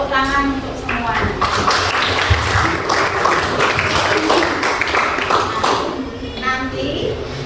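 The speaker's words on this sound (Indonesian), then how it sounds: "Tepuk tangan untuk semuanya." A school class in Indonesia claps, with close, busy hand clapping running throughout while children's voices chatter and call out over it.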